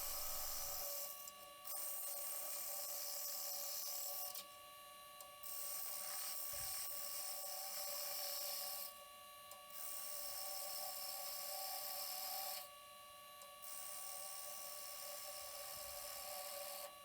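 Wood lathe turning down a waste block on a one-way vacuum chuck, with bursts of high whining cutting noise that stop and restart several times and a steady mechanical hum underneath.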